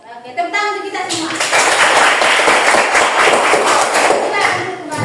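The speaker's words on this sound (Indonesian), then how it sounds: "tepuk tangan untuk kita semua" A classroom group of students claps hands together in a sustained, loud burst of dense applause lasting several seconds, with children's voices mixed in.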